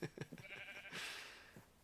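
Sheep in the Minecraft video game bleat in a few short, close, moderately loud calls in quick succession, with a longer bleat toward the end and no talking.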